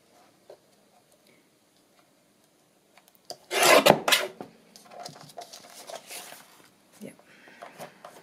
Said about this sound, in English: I want it to be fairly even on the edges, and just need to trim that up a bit